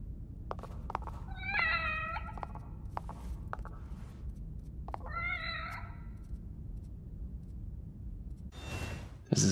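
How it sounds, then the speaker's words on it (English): Two bursts of cat meowing from a cat in The Evil Within horror game, each a short series of wavering cries over a low ambient hum, followed by a brief rustle at the end. "Oh, here's the cat."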